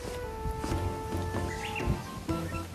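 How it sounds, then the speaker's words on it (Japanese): A Japanese bush warbler sings outdoors on a windy day. Its faint calls sound at a distance over a soft background hum, with no voices. "ウグイス鳴いてるね。"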